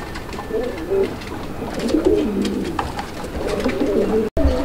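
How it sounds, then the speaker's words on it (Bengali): A pair of Rajshahi Giribaz pigeons coo repeatedly at a bird market, with soft, rolling throaty calls layered over a steady crowded background murmur. "এই মুহূর্তে আমরা দেখাচ্ছি একজোড়া গিরিবাজ কবুতর"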